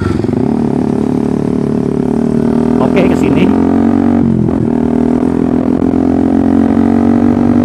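A modified racing-style motorcycle ridden along a city street puts out a steady, loud engine drone the whole time, with someone talking over it.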